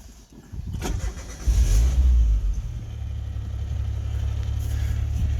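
A 1991 Geo Metro that sat all winter cranks briefly and catches on the first try. It settles into a steady, low, buzzing idle that carries on close by and alone.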